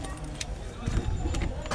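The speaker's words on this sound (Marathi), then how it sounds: "लॉक करू दे गाडी चावी." Car keys jangle in short metallic bursts while a car is being locked, close by and fairly quiet over low background noise and some talk.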